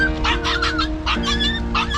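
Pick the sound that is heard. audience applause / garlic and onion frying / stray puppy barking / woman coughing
stray puppy barking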